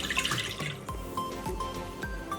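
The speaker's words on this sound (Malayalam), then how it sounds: "ഈ ബൗളിലേക്ക് 1 കപ്പ് ചെറു ചൂടുള്ള പാൽ ആദ്യം ഒഴിച്ചു കൊടുക്കാം." Warm milk poured into a bowl for homemade dinner rolls, a soft, close liquid trickle with a few small splashing drips.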